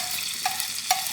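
Ghee made from A2 milk powder melts in a pan with a steady close hiss and sizzle, broken by two brief louder crackles, and no one talks.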